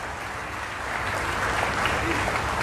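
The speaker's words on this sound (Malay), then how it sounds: "Berikan tepukan." Crowd applauding at a PAS political rally for the Chini by-election, broad steady clapping that swells slightly and holds for a few seconds, with no voices standing out.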